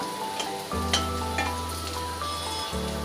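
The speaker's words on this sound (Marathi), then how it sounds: "आता याच पद्धतीने आपल्याला दुसरी बाजू पण भाजून घ्यायची आहे." Stuffed bitter gourds (bharli karli) roast in a pan with a soft steady sizzle, a low hum and a few light clinks over three seconds, no voices.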